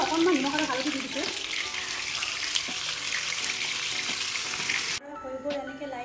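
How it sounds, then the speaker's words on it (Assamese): Pointed gourd pieces lightly frying in oil with salt and turmeric, a loud, dense sizzle and sputter with stirring, which drops abruptly to a quieter sizzle near the end. "ইয়াতে পটলকেইটা দি লাইট ফ্ৰাই কৰি ল'ম"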